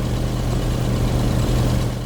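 A loud car engine in the video game Kona idles with a steady low rumble and constant hum, close and unbroken for a couple of seconds.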